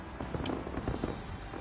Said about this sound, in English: I don't remember listening to fireworks before in this game.